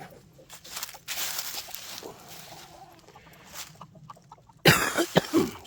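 A person with a burning, sinus-irritated cough coughs a few times loudly and close, after a quieter stretch of faint rustling and chicken-coop background sounds.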